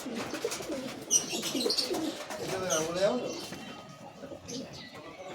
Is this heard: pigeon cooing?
yes